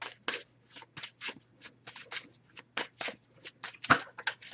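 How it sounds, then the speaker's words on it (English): A deck of oracle cards shuffled by hand at close range: a steady run of quick papery riffles and slaps, each burst short and crisp, over a faint low hum with no talking. "Just going to give this a few shuffles"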